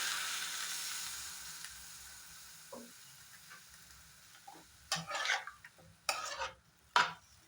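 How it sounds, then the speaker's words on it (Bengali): Egg pasta with onion being stirred in a pan on a gas flame: a low steady sizzle first, then several sharp spoon scrapes and knocks against the pan toward the end. "এইভাবে কিছু সময় আমি মিলিয়ে নেব"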